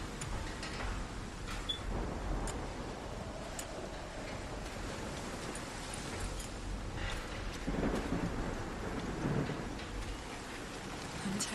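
A thunderstorm with rain in the video game Call of the Sea, a dense, steady patter of rain with low rumbles of thunder swelling and fading, heard alone at a moderate level.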